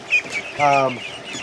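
A single loud, tonal bird call rings out close by in a pen holding goslings and ducklings, with a few softer peeps before it and scattered movement noise after.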